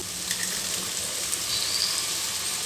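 Steady, close sizzling of broccoli and tomato frying in a pan as egg is added, a continuous bright crackling hiss with faint stirring and no voices.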